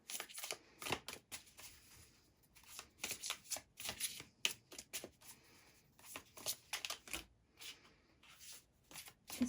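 Tarot cards being shuffled by hand in repeated quick riffling bursts, close and crisp, with short pauses between runs and no voices.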